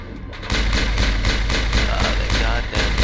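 Sustained rapid gunfire from the video game Mass Effect, a loud, close string of evenly spaced shots firing steadily for nearly three seconds without voices over it.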